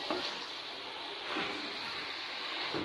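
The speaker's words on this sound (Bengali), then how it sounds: "আমি চিকেনটাকে একটু নেড়ে দিব।" Spicy chicken sizzles steadily in a hot pan as it is stirred during Bangladeshi home cooking, a quiet, even frying hiss with a few soft scraping strokes.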